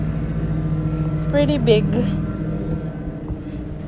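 The engine of a 15-foot U-Haul rental truck idles loudly in a steady low rumble, with a person talking briefly over it.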